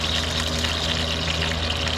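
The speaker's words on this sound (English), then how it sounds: "I'm gonna go ahead and pour some oil in there. Cast iron's pretty hot." A little oil sizzles in a very hot cast iron pan, giving a steady, close, even hiss with no voices.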